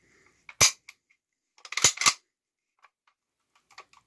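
An M1 carbine bolt released to snap forward: a sharp metallic clack, then two quick loud clacks a moment later, followed by faint small clicks of handling in an otherwise quiet room.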